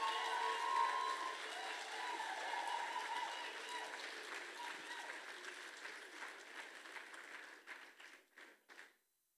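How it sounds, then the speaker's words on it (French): Applause with some cheering from a church congregation at a baptism service, sustained dense clapping that thins into a few scattered claps and stops. "on va l'applaudir."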